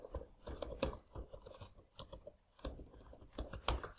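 Someone types Python code on a computer keyboard, producing irregular bursts of crisp key clicks and a few heavier strokes. The sound is close and carries no talk over it.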